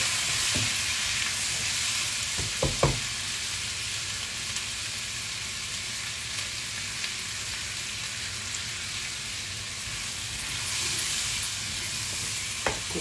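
Ingredients sizzle in a pan for a Gudi Padwa thali while being stirred and mixed, with a continuous hiss broken by a few sharp spoon knocks early on and another near the end, no talking.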